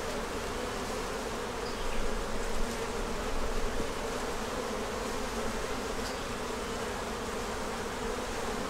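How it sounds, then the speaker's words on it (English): A steady, dense drone of many honey bees buzzing on a frame of honey pulled from a hive, close and continuous throughout with slight swells, no speech. "Check whatever bees are still on here."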